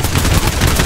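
Gunfire in the video game Fortnite, a loud, dense burst of rapid automatic shots filling the whole brief moment, close and without talk.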